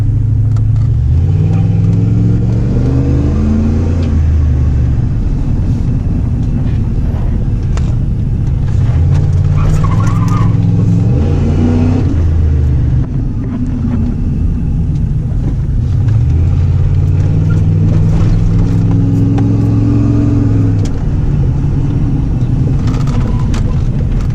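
A 1998 Dodge Cummins diesel pickup with a Flowmaster exhaust accelerates repeatedly, its deep throaty rumble rising and falling in several pulls, loud and close.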